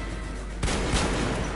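Gunshots in the Metro Redux shooter: a sharp, loud report breaks a low background hum, followed by another close blast.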